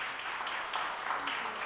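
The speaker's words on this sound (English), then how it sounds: "give our amazing panelists a round of applause" An audience at a tech conference panel applauds with a dense, fairly distant wash of clapping that swells slightly partway through.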